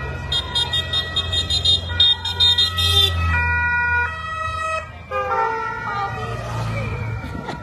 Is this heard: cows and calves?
no